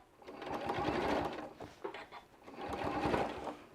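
Sewing machine stitching with a back stitch while sewing boxed corners, two bursts of rapid mechanical chatter separated by a short pause, close and moderately quiet.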